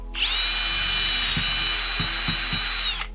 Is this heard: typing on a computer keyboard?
no